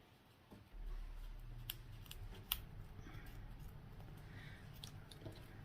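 Scissors cut through a fabric seam allowance, trimming it down. The snipping and crunching is close and steady for several seconds, with small sharp clicks from the blades.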